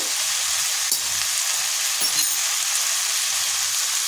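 Cumin powder sizzles in hot oil in a pan for a Bengali fish and greens dish, a steady bright frying hiss with a couple of small clinks from stirring, close and continuous.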